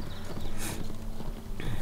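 Horse hooves clip-clop at a steady riding pace in Abenteuer auf dem Reiterhof 5, crossing a meadow in a brief, close run of rhythmic hoof beats with a faint background hum.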